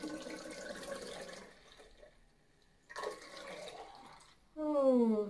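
Homemade apple vinegar is poured into a bottle in two splashing bursts, then a louder gurgling stream whose pitch rises as the bottle fills.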